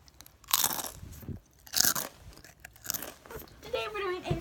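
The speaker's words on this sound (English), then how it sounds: "I got Sun Chips. They're the cheddar Sun Chip kind." Cheddar Sun Chips crunched between the teeth, a few loud sharp bites followed by chewing, very close to the mic, with speech between the crunches.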